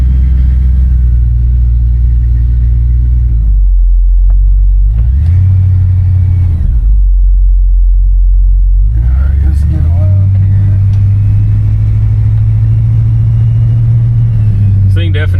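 A 1967 Cadillac DeVille with a blue vinyl top idles loud and deep, its heavy engine rumble rising in two revs and settling back, the second rev holding higher longer.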